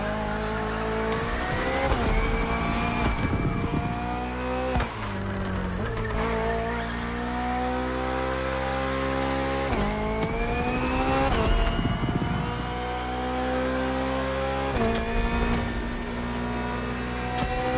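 A BMW hybrid V8 race car in The Crew Motorfest roars through a race, its engine climbing in pitch through gears with repeated upshifts, tire squeal and skids, loud and continuous with no talk.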